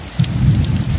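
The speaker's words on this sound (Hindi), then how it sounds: "चलो वर्षार व्यू टी देखी दियो वीडियो रे" Heavy rain falling during a thunderstorm, a steady close hiss of drops with a low rumbling roar underneath, no voices.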